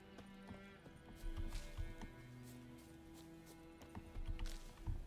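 Horse hooves clip-clop at a steady trotting rhythm with a brief whinny in The Witcher 3, game-like and mid-distance, over a faint ambient background.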